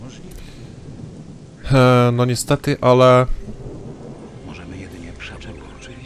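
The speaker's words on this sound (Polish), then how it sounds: "Ale dobra, no znowu pada" Thunder rumbles with rain falling in the Gothic II video game, a steady rain bed under someone talking loudly in the foreground.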